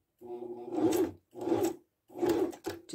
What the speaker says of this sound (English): do a couple of stitches and then back stitch